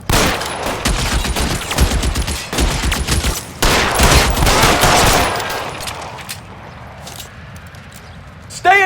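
Heavy gunfire erupts in the L.A. Noire video game, with dense, continuous bursts of close shots mixed with shouting voices, then tapering into quieter background noise and a final short sound.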